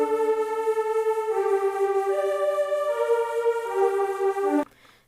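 Sustained Serum synth pad, stacked bright harmonic chords shifting through several changes over a steady, loud level before cutting off abruptly near the end, no voices.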